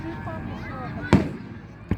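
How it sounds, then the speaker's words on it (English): Fireworks go off in two sharp bangs about a second apart, the first louder, over a background of low crowd murmur and faint voices. "I get more fireworks."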